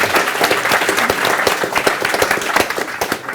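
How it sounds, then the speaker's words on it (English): Audience at a university sustainability careers event applauds a speaker, with loud, continuous, close clapping that holds steady throughout. "Round of applause for her."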